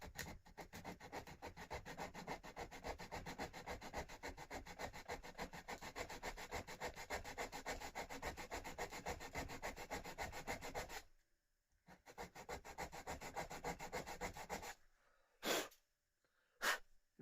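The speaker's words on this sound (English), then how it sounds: "Might just need a little bit more sanding on there." Rapid rhythmic back-and-forth scraping of sandpaper on wood while rounding a groove for a phone dock, close and steady, pausing briefly before resuming, then a few final strokes.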